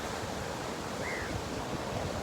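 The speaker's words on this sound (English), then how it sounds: "When I hear the sound of the waves, I listen to them." Sea waves wash steadily alongside wind, forming a constant broadband roar with no distinct breaks, fairly close and continuous throughout.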